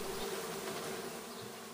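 Honeybees swarm inside a DIY observation hive built from an aquarium, making a steady, close insect drone that holds at an even level throughout with no other sounds.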